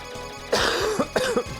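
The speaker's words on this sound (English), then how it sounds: "Gives me a chance to cough." A person coughs several times in quick succession, close and loud, with short harsh bursts and throat-clearing between them.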